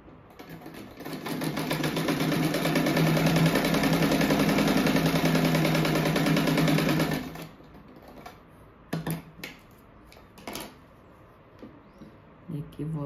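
A sewing machine stitches fabric for a tulip rug in a long, loud, even mechanical whir of rapid needle strokes lasting several seconds, then stops, followed by quieter handling noises and clicks.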